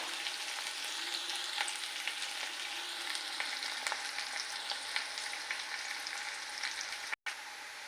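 Chopped onion sizzling and frying in oil in a pan for a fish curry, a steady bright hiss with scattered crackles and pops held at an even level throughout, close by with no talking.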